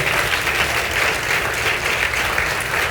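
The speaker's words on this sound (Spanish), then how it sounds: "Yo le aplaudiría mejor para Dios." A church congregation applauding together, a dense, even clapping that holds steady and fairly loud throughout.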